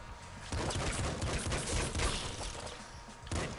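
Rapid golden pistol shots in the top-down shooter Nuclear Throne, a dense run of sharp game gunfire bursts over busy background game sound, steady and loud throughout.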